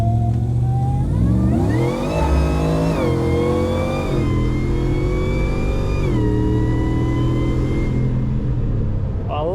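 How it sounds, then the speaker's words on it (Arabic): A Nissan Patrol with a supercharged American engine revs repeatedly, pitch climbing and holding through several throttle blips before settling, loud and close with a deep rumble underneath. "والله صوت السوبر تشارج"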